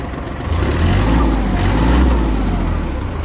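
A Kubota GL-25 Japanese mini tractor engine runs after starting, a steady low rumble with a slight rise in intensity, heard up close and alone.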